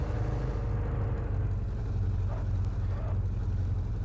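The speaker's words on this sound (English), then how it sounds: "It's the roar of this sweet ass truck." A truck engine in a video game gives a steady, deep roar, close and constant throughout, with a low rumbling drone and no breaks.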